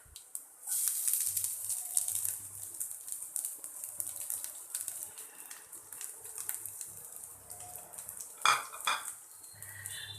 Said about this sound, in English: Then I'll add the carrot,